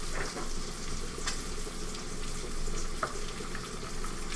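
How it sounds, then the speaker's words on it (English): Ribeye steak frying in butter in a pan, a steady close sizzle and grease bubbling continuously throughout, with faint scraping touches. "So yeah, keep the grease bubbling."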